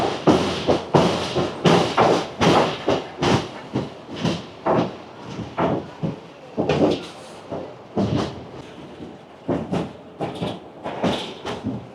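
The Malang Gad funicular railway car running on its track gives off a series of irregular clunks and rattling bursts, moderately quiet and continuous across the scene.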